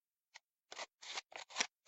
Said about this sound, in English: what we do is basically just cut off wedges